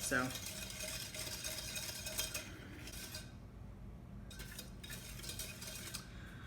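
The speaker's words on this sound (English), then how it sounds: "I'm supposed to whisk this constantly until it comes up to a bubble" A mixture for a peanut butter cake is whisked constantly in a pot on the stove, the whisk scraping and tapping the metal in a steady busy rhythm with a low simmering rumble beneath, close and without talk.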